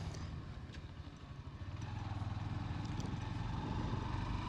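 A Honda Shine 125 motorcycle engine runs steadily at low revs, a continuous close-up rumble with a faint regular beat and no speech over it.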